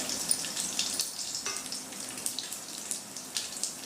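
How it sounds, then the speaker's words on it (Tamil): Curry leaves and crushed garlic cloves sizzle and crackle in hot oil in a pan, a steady bright spitting hiss with small pops throughout, close and fairly loud, no talking. "நல்லா பொரிஞ்சதுக்கப்புறம் கருவேப்பிலை சேர்த்துக்கிறேன். கூடவே ஒரு 7-8 பல் பூண்டு இது மாதிரி தட்டி வச்சதை சேர்த்துக்கிறேன்."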